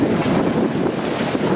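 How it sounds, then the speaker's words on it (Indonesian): Strong coastal wind buffeting a microphone by a seawall under construction with tetrapods, a loud continuous rumbling roar with steady gusty texture and no voices. "Memang saat ini angin cukup besar."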